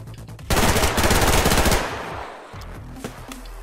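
Rapid automatic carbine fire in the multiplayer shooter game Survarium, a loud, dense burst of close shots lasting over a second and then tailing off into quieter game sounds.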